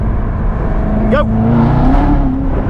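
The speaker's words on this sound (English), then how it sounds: "Let me give you a quick downshift." A Chevrolet Corvette Z06 fitted with a Corsa exhaust gives a quick downshift, the engine blipping up sharply then settling into a loud, steady droning rumble close by, with one brief spoken word over it.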